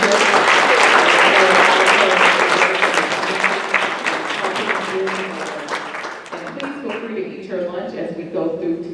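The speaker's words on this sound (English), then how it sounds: "So I'd like you guys to give her a round of applause for her leadership." Loud applause from attendees of a Greater Southwest Black Chamber of Commerce women's conference honoring Linda Gray, full and dense at first, then thinning and fading as a voice begins speaking over the last scattered claps.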